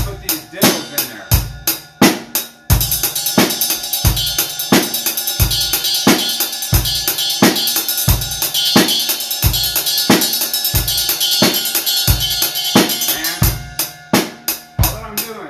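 Drum kit groove with a steady kick and snare pulse while bright, ringing ride cymbal bell strokes fill in quick doubled diddle patterns, loud and close throughout.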